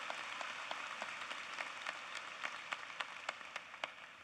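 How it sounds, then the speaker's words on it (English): An audience applauds graduates at a university spring commencement ceremony, a distant, faint wash of clapping from a large crowd with scattered louder individual claps standing out rhythmically. "Why don't you stop and give everyone a round of applause,"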